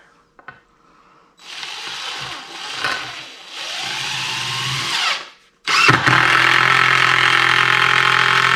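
A power drill drives 3-inch deck screws into wooden boards, whirring in several sustained runs with brief pauses, the last run loudest and steady.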